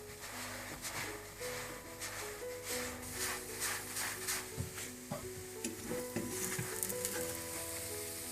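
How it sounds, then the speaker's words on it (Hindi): Paratha frying on a pan over low heat, a steady close sizzle with faint crackles and occasional light scraping of utensils, no talking. "पराठों को आपने बिल्कुल हल्की आंच पर पकाना है"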